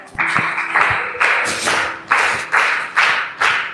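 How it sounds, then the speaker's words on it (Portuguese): A church congregation claps in steady unison to welcome a visitor, loud rhythmic beats landing about every half second throughout. "Palmas!"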